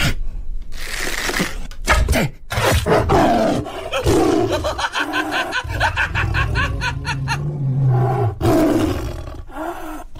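A dramatized tiger roar sound effect, loud and close, repeats in several long growling bursts with snarling, chuckle-like breaks between them.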